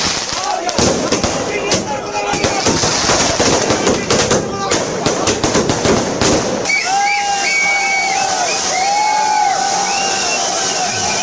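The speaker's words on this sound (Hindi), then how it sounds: "उसके बाद देखिए आतिशबाजी।" Fireworks crackle and bang at a political celebration outside a party office with thousands of supporters, a dense continuous barrage of pops followed by whistling, fizzing rockets over loud crowd noise.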